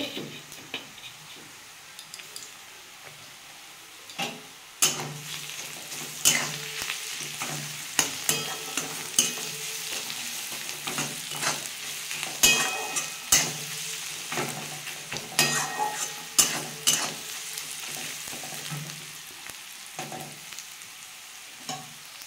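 Onions sizzle in a pan for a chicken curry while a spoon stirs them, scraping and clicking against the metal in irregular bursts. The frying hiss stays soft underneath, and nobody speaks.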